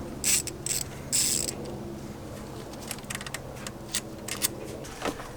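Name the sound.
10mm socket ratchet removing air rail bolts on BMW M3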